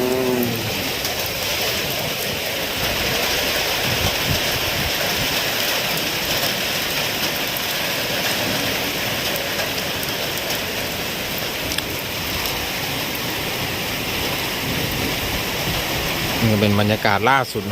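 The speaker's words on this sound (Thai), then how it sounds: "ฝนตกนะครับฝนตกลมแรง" A summer storm in a Thai village brings heavy rain and strong wind, a loud, dense, continuous roar of downpour and gusts close by. Someone talks briefly near the end.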